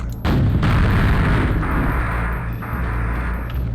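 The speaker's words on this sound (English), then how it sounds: "As you see, it makes a pentagram sound when it goes off." A mine in a video game detonates with a loud, booming blast that rolls into a long, rumbling decay lasting several seconds, with no talk over it.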